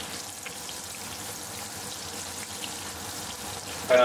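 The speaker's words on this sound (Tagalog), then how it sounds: "niluluto na po natin yung steak ko. Nilagyan ko lang siya ng bawang, niluto ko sa butter." A garlic-seasoned steak sizzles in butter in a home pan, giving a continuous, even crackle of frying with no voices, and a brief louder burst near the end.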